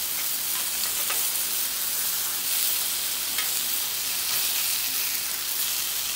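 A vegan jerk steak sizzles in a hot pan just after being flipped, giving a dense, even hiss of frying that holds at a steady, close level throughout with a few faint crackles.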